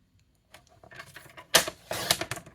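Designer series paper being cut at 4 1/4 inches for a window shadow box card, a few crisp slicing and trimmer sounds close by, the loudest bursts near the end, with no talking.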